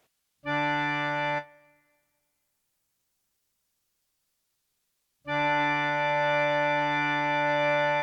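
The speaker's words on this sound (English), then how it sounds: "I can change the reverb settings to add more reverb." Two sustained notes from a Yamaha PSR i610 keyboard: a short one that decays into a reverb tail, then after a silence a longer held note, clear and fairly soft.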